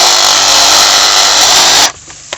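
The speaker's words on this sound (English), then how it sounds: "Well, you can see sawzall. It just cut right through these," A reciprocating saw with a sharp blade cuts through saplings, a loud, steady buzzing rasp for nearly two seconds before stopping abruptly, leaving a brief quiet tail.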